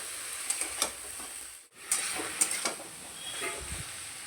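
Pumpkin greens being mixed with mustard paste made with turmeric and green chilli in a pan, soft scraping stir strokes and light clinks over a gentle sizzle, close, with a brief lull midway and no talking.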